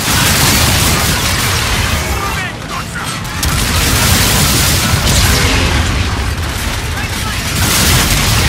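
A shock grenade blast in the Call of Duty: Infinite Warfare campaign booms loudly amid heavy battle noise and gunfire, with a player's voice talking excitedly over the din.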